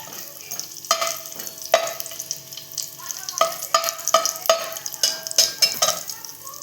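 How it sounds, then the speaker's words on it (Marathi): Whole spices crackle and sizzle in hot oil for a Marathi-style spicy prawn rice, with sharp pops and the clatter of stirring over a steady frying hiss, close up and with no talk. "आता खडे मसाले टाकते"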